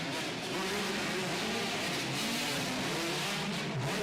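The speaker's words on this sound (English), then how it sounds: "Electric bike." An electric dirt bike races around a barn dirt track, a continuous loud motor whine with a steady rising and falling tone over rough broadband noise.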